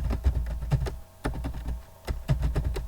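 Computer keyboard typing while HTML code is entered, bursts of quick clicky keystrokes with a short pause near the middle, close and fairly soft, no voice.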